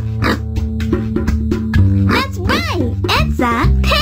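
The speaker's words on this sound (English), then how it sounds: "It's a pig!" A cartoon pig oinks in a Dora the Explorer farm video game, several squealing grunts over bright background music.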